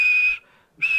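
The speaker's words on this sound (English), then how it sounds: "And he blew his whistle." A steam locomotive whistle sounds a steady, high-pitched tone twice, cut by a short silent gap.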